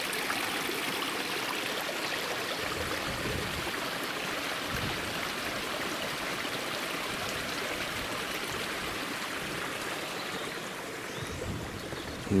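A small stream near a monastery in woodland flows steadily, with continuous close babbling and trickling water throughout and no voices.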